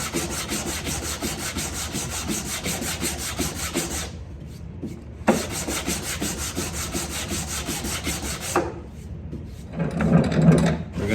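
Someone sands the wooden top of an Irwin Record 6 1/2 woodworking vice with rapid back-and-forth strokes, giving a loud, rhythmic scratching with two short pauses and no speech.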